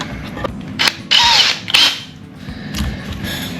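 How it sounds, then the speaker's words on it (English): A power drill bores a hole through foam, whining in short bursts, two loud spurts in the middle with quieter mechanical noise around them, close by. "You can do that with your drill."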